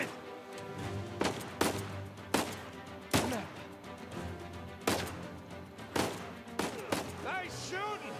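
Gunfire in the video game Uncharted 4, a series of sharp, echoing single shots spaced about a second apart, with a brief rapid burst near the end and voices talking in between.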